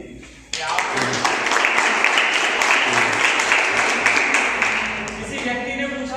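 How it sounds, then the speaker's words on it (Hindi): An audience at a coaching institute event breaks into sustained, dense applause after a short silence, loud and close, tapering near the end as a voice returns. "आप अपने आप में अपने लिए ही तालियां बजा दीजिए"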